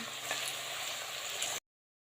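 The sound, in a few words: shredded potatoes frying in hot oil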